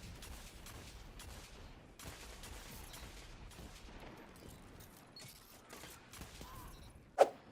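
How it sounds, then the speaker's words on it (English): Rapid gunfire from a player shooting in Destiny 2, a steady run of quick shots with one sharper, louder crack near the end, no voices. "this player is shooting their shots a little bit too fast for themselves"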